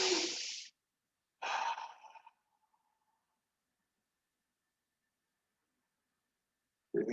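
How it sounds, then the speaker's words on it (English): Breathing during a qigong exercise session, two audible breaths close to the microphone, the second trailing off into a long silence before another breath begins at the end. "Turn to the right. Exhaling."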